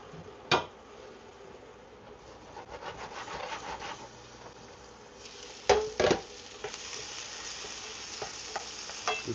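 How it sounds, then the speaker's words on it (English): Eggs sautéing with rice in a pan, a soft steady sizzle under repeated scraping and stirring strokes, with a few sharper knocks of the utensil against the pan, close and fairly quiet. "Get that little saute on in there."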